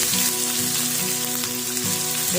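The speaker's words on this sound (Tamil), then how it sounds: "இப்போ வெங்காயம் நல்லா வதங்கிடுச்சு" Chopped onion, ginger and garlic fry in oil in a pan with a dense, constant sizzle, heard close and fairly loud while cooking rava kichadi. Faint background music plays under it and no one speaks.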